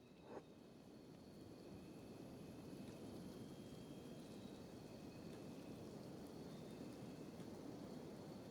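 Steady rain falls in the Kenshi video game, a dense continuous hiss of red rain with a low rumble underneath and no voices.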